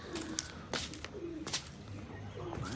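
Several pigeons coo softly at a rooftop loft with trap nets, low calls repeating among sharp chirps and clicks, fairly distant and faint.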